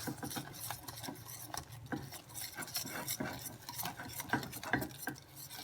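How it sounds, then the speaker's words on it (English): Flour is stirred into a boiling pastry-cream-puff mixture with a wooden spoon, producing quiet, busy scraping and knocking against the pot in an uneven, continuous rhythm, close but faint and without talk. "Now put the flour in and start mixing very well."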